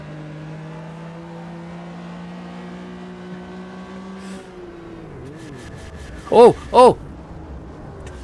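A Porsche RSR with an H-pattern gearbox in the racing game Automobilista 2, engine drone dropping and shifting pitch through a gear change, followed by two sharp high revving bursts, with a short exclamation from a voice.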